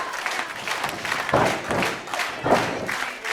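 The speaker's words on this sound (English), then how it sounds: "Crowd's starting to fire up here for Valhalla Rising." Wrestling crowd at a live match cheering and clapping for the tag team Valhalla Rising, a steady broad roar with two louder swells of applause and thuds from the ring.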